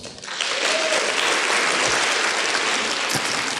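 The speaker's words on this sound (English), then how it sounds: "give them a big round of applause" Sustained applause from a crowd at the QSEN International Forum, a nursing conference, steady and dense clapping filling the whole stretch with no voices over it.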